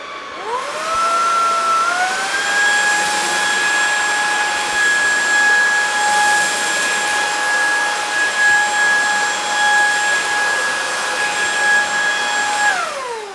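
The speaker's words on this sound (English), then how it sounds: "Now the next test for the Lacidoll vacuum is some porridge oats" A Lacidoll wet and dry cordless vacuum cleaner whines up to a loud, steady high-pitched motor drone while picking up porridge oats, holding for about ten seconds before spinning down, close and continuous with no voices.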